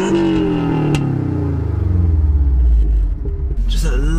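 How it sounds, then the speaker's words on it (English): A Subaru Impreza STI four-cylinder engine cranks and catches, then settles into a low, steady idle rumble close by, with a brief clunk near the end. "Just a lovely sort of purr from a 4-cylinder engine."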